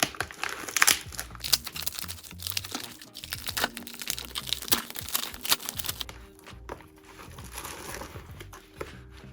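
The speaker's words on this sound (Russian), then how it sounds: "Пришла в фольгированном пакете." A foil bag holding copy AirPods Pro earbuds is handled and torn open, giving close, busy crinkling and crackling that tapers off into softer rustles.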